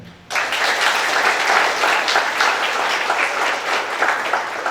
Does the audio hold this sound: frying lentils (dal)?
no